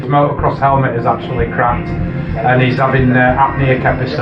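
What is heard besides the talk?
No everyday noise stands out behind the speech.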